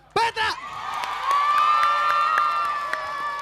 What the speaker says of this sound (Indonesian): Tepuk tangan buat Petra.